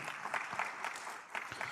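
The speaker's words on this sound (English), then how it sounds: "Another hand of applause" Brief, faint applause from a research and innovation conference audience, a soft patter of clapping heard from a distance.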